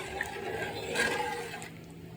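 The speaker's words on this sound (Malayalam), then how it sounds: "തേങ്ങാപ്പാൽ ചൂടാക്കി ചെറിയ ചൂടോടുകൂടി ഒഴിക്കാം" Warm coconut milk poured into a pot of adapradhaman, a soft steady liquid pour heard up close for a couple of seconds, with no talking.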